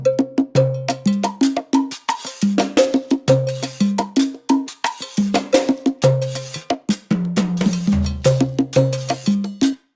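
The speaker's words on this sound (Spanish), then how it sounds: "ahí suena un tom a la derecha y el floor tom suena a la izquierda" Salsa percussion mix with toms, floor tom and timbales, sounding as a busy rhythmic pattern of pitched drum hits and sharp metallic strikes that plays steadily and loudly throughout, with no voices.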